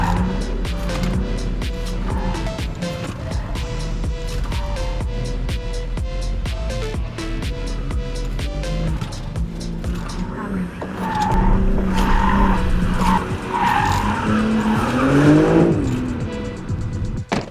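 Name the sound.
BMW M3 G80 driving a slalom, tires squealing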